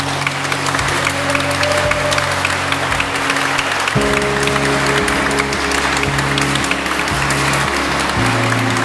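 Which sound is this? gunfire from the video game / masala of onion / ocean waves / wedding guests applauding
wedding guests applauding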